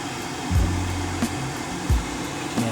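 A gas boiler fan hums steadily as it modulates down, a continuous airy whir with a few soft knocks and thumps nearby.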